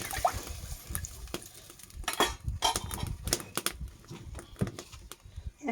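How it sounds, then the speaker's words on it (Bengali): A spoonful of salt goes into a cooking pot of vegetables and mung dal with water. Metal spoon scrapes and clinks come in quick, close bursts against the pot over a faint background. No one speaks. "এক চামচ নুন দিয়ে দিলাম।"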